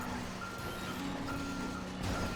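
A truck in GTA 5 Online reverses with faint, repeating reversing beeps over a low, constant engine drone.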